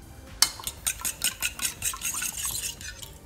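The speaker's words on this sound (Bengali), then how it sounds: "এখন আমি ডিমটাকে ভালোভাবে ফেটে নিব।" Eggs with black pepper, white pepper and salt being beaten in a bowl, a quick run of light rhythmic clinks and scrapes of the utensil against the bowl, close and fairly steady, with no talking.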